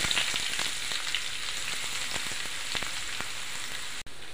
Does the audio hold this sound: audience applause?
no